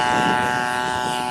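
A 30cc gas engine drones steadily on a Seagull Models RV-8 radio-controlled model airplane, a loud continuous buzzing hum with no talk.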